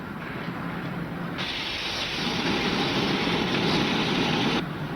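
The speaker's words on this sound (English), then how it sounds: "He's bleeding off his steam." A standing steam locomotive vents steam through its safety valve in a loud, steady hiss that swells louder midway and then cuts back down, with no voices.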